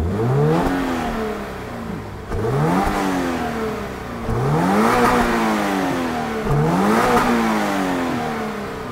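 A 2022 Toyota GR 86 engine revs repeatedly through its factory exhaust, four rising-and-falling roars, loud and close with a throaty growl between each blip.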